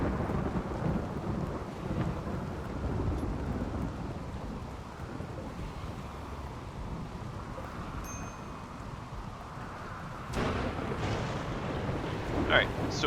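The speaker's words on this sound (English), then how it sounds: "Thunderstorm, nonetheless." Thunder rumbles low and continuous over steady rain in a survival video game, with a sharper crack of thunder near the end.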